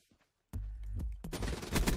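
Gunfire from the Tempest gun in Call of Duty: Black Ops 3 cracks out in loud, rapid overlapping bursts after a moment of near silence, with sharp shots stacking into a dense barrage.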